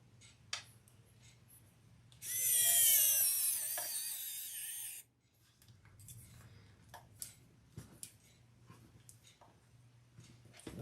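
A small electric screwdriver whirs in one high-pitched burst of about three seconds while tiny screws go into a handbag, followed by faint clicks and taps of handling in a quiet room.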